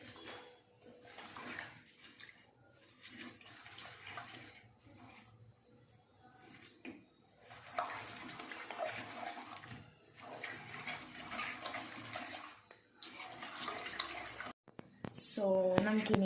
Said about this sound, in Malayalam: സോ നമുക്കിനി ഇതൊന്ന് കഴുകിയെടുക്കാം. ജസ്റ്റ് ഒന്ന് കഴുകിയെടുത്താൽ മതി.